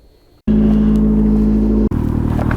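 A car is driven off an RV hauler trailer: an engine starts abruptly, holding a loud steady hum with a strong low tone, then briefly cuts and resumes at a rougher idle, close by and with no talk.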